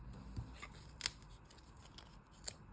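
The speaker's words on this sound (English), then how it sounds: "I cut a cardboard disc to fit inside" Scissors snip through a cardboard disc in a few crisp, close cuts spread unevenly, with faint rustling of the cardboard between snips in an otherwise quiet room.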